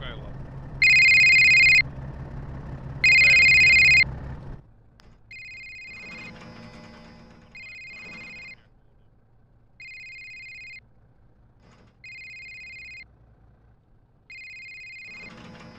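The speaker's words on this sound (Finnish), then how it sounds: "Kuinka kauas tuo puhelin kuuluu?" A telephone rings in the military game Arma 3, first two loud close double-trills over engine rumble, then five fainter, more distant rings at steady intervals after the rumble stops.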